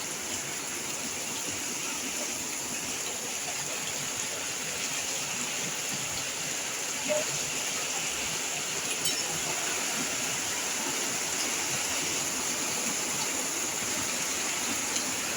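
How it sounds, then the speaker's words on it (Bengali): Heavy rain pours steadily in a village setting near a pond, a dense, even hiss of downpour with no letup, fairly close and constant throughout. "খুব জোরে বৃষ্টি পড়ছে।"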